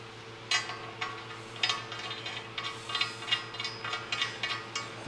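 Ratcheting clicks of a bolt being screwed in during fabrication of a roller skid, a run of short metallic bursts repeating steadily at close range over a constant low mechanical hum.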